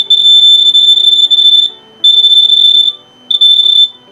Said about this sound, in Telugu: ఎప్పుడైతే మనం ఏదైనా అడ్డం పెడతామో అప్పుడు ఆటోమేటిక్గా బీప్ సౌండ్ అయితే వస్తుంది